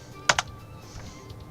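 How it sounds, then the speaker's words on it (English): A few quick keystrokes tapped on a computer keyboard, two sharp clicks close together followed by softer taps, near and fairly quiet, with no talk, during a Roblox Loomian Legacy game session. "am I typing it right?"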